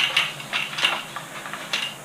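Small screws are unscrewed from an iRobot Roomba brush assembly, giving soft, close ticking and ratchet-like clicks in short bursts with brief pauses between turns.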